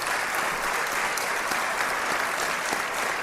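A crowd of listeners applauds in a steady, even wash of clapping that holds constant throughout, moderately loud and without talking.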